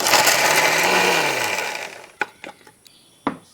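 A mixer grinder whirs loudly, blending ginger, garlic, onion, green chilli and tomato into a paste, then winds down and stops, followed by a few sharp clatters and knocks as the jar is handled.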